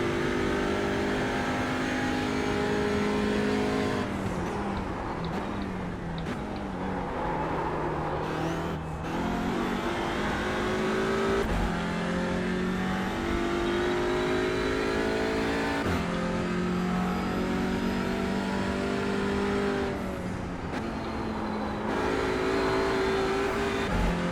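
Audi RS3 TCR race car engine in iRacing at Summit Point Raceway, loud and close, revving up through the gears with sharp shifts and lifts, pitch rising and falling repeatedly.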